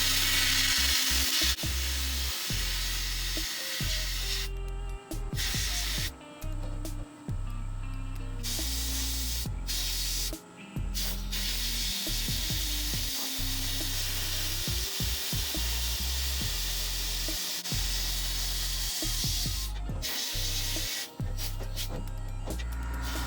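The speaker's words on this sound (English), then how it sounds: "Here's my first attempt at sandblasting using the blaster." Sandblasting inside a DIY blast cabinet fed by an air compressor: loud, steady, broadband blasting hiss in repeated bursts with short breaks, and the compressor's low rumble running underneath throughout.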